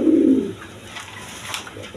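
A male Spanish pouter pigeon gives one short, low, close coo, followed by faint background noise.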